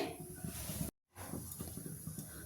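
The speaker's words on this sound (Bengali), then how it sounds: "আমি এখানে গ্যাসটা জ্বেলে দিয়েছি।" A lit gas stove burner hisses steadily with broad airy noise, cutting out to silence for a brief moment before the hiss resumes at the same level.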